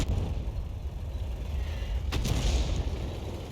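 A Grille self-propelled gun fires a single shell in World of Tanks, a sharp loud boom partway through with a rumbling tail over steady engine and battlefield noise.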